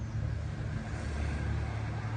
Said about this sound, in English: Sorry about the traffic noise as ever.